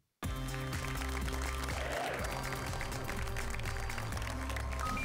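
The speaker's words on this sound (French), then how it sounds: "On applaudit les performances qu'Eric réalise depuis le début de cette émission." Studio audience applause on a French TV game show, a dense burst of clapping that starts abruptly and holds loud and steady to the end, with no voices over it.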